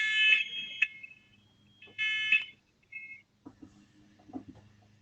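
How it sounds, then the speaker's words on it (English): A fire alarm sounds during an online conference call, with loud, piercing electronic beeps in repeated bursts separated by short gaps, followed by fainter low clatter. "Oh, I think he has a fire alarm."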